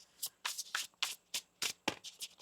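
Tarot cards being shuffled by hand, a quick run of crisp riffling bursts and soft flutters at close range, with no talk over them.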